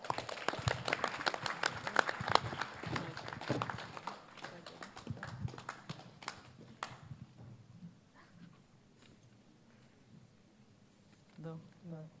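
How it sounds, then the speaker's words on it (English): Applause from a community audience at a remembrance day gathering, loud and dense at first with some talk mixed in, then thinning to scattered quiet claps before a voice resumes near the end. "Can we please get a round of applause for Vanita?"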